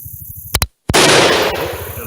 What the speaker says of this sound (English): Got a double fire that time.